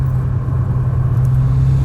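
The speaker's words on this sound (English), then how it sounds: "You're getting actually a lot more noise from the engine, which is good, in my opinion." Mitsubishi Lancer Evo 10 engine through its stock exhaust, a steady, loud, bassy low drone held at a constant level from cabin, with no talking.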